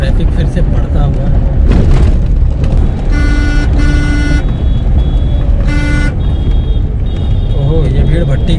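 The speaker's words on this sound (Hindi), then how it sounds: "ट्रैफिक फिर से बढ़ता हुआ।" Busy road traffic in Raipur picking up during lockdown: loud, close engine rumble with several sustained horn blasts sounding in bursts over the steady roar.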